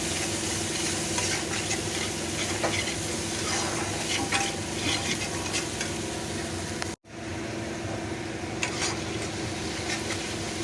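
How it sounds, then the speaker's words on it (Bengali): Masala spices for a chitol fish curry are stir-fried in oil with a constant close sizzle and the scrape of a spatula in the pan, broken by one very brief gap. "মশলা আমার কষা হয়ে গেছে।"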